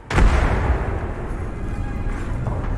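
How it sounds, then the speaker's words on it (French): A grenade blast in the video game Apex Legends, one loud booming burst at the start that rolls into a long rumbling decay, alone without talk. "Attention, grenade"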